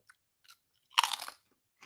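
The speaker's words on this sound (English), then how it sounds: "Listen to the crunch." Wilde chicken protein chips crunch in a few quick bites, with one loud, crisp crunch in the middle and fainter crackles before and after, close to the mouth against silence.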